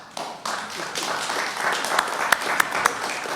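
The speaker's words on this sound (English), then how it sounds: "Deserves 2 rounds of applause" Applause rises at a city council meeting, a moderate patter of clapping from a modest crowd with a few sharper individual claps standing out toward the end.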